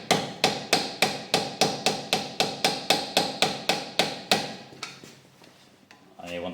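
A big screwdriver is driven against a Fendt 718 tractor's front axle hub to pry it loose, making about fifteen sharp, evenly spaced metallic knocks close by, followed by a quieter pause and a brief scrape.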